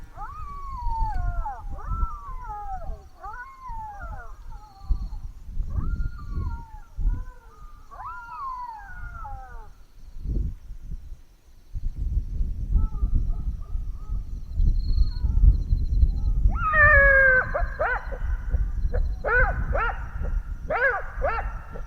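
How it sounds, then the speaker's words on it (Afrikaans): Jackals yip and wail in rising, wavering calls, first a chorus, then a pause, then louder overlapping howls returning over gusty wind. "Dit was nie lank voordat ek die eerste tekens van die probleemjakkalse begin hoor het."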